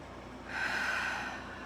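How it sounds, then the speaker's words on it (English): One long, deep breath drawn in through the nose, a soft airy rush that swells and then fades, heard close up and alone during a calm guided morning session. "A couple of nice deep breaths."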